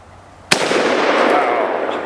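A single sharp, loud AR rifle gunshot cracks outdoors and leaves a long, broad echoing decay.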